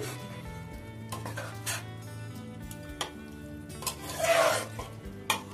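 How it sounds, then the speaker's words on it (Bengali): Chicken curry cooks slowly over a medium gas flame in a pan, with soft sizzling and the intermittent scrape and clink of a spoon stirring, quiet and close. "চলো একটু আস্তে আস্তে কষিয়ে নিই"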